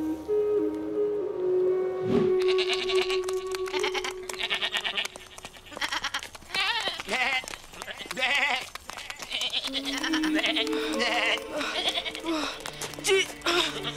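Several goats in an animated cartoon bleat repeatedly, some close and loud, with shuffling and rustling movement between calls.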